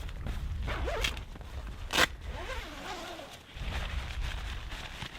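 A zipper slides along the door of a Jack Wolfskin Gossamer II tent, with several close rasping pulls, one sharp quick tug in the middle, then a steady drag, heard alone without talk.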